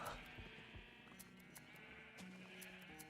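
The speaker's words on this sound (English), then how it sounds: "I have to shear the sheep over here in this very well-made sheep pen." Sheep bleat repeatedly inside a pen in the Minecraft video game, several short nasal calls standing out clearly over a steady layer of game background sound.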